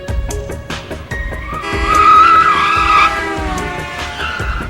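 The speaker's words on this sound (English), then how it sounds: "It was a car outside." Car tyres skidding outside: a loud, drawn-out screech with tonal squealing rises and fades over a few seconds, with scattered knocks around it.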